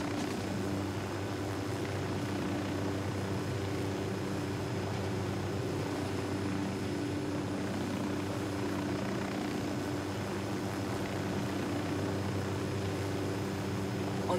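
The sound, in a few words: deployed drone whirring in video game Ghost Recon Wildlands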